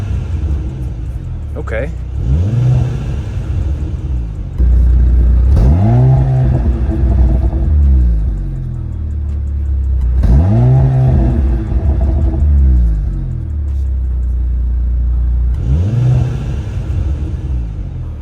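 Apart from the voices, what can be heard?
2023 Mercedes-AMG C43 engine revving with exhaust burbles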